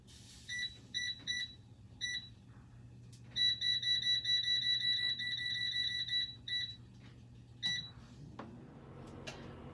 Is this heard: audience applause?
no